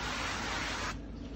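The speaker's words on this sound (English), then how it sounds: "now I'm gonna spray it with some of that avocado oil spray." Avocado oil spray hisses onto a griddle preheated to 400 degrees, a close, loud continuous aerosol burst that cuts off just before the end.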